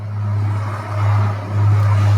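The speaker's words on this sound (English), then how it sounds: "that very loud vehicle that just went by was not like a semi truck, or it was a tractor" A loud tractor hauling harvesting equipment rumbles past close by on a rural road, its heavy low engine drone swelling and holding steady throughout, with no voices.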